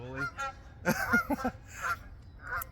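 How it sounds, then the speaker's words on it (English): Several geese honk nearby in loud, repeated bursts, their harsh calls overlapping and coming in quick clusters. "here come the geese"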